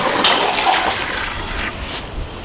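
A garden water hose sprays a loud, close, steady hissing rush of water outdoors near farm animals, with the spray briefly shifting and surging.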